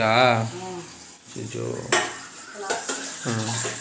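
Pots and dishes clatter and clink as they are handled, with a few sharper knocks, while a voice talks over the kitchen noise.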